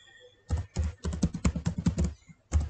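Rapid keystrokes on a computer keyboard as a web address is typed, a quick run of close, crisp clicks in uneven bursts with a short pause near the end.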